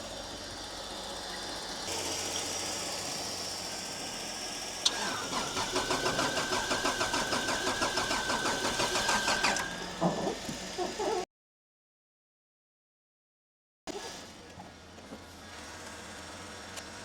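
Manual Holden VR Commodore, rough-running, cranks with a rapid rhythmic starter chug for several seconds and then fires up to a steady idle, loud and close; a short cutout follows before the engine is heard running again.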